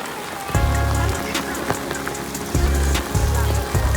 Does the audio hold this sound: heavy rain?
yes